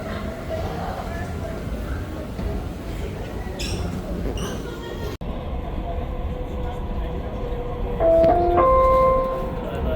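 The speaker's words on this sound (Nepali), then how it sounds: "यहाँबाट चाहिँ अब 1 मिनटमा ट्रेन आउँछ नि चढ्नुपर्छ" A Dubai Metro train pulls into a station with a steady, loud rumble, voices murmuring over it, and a few clear chime-like tones ringing out near the end.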